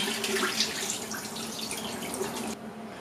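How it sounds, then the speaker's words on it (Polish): Water runs steadily from a kitchen tap over pork being rinsed for homemade brawn, a constant close hiss and splash that drops off abruptly near the end. "Cały czas woda leciała, płukałam."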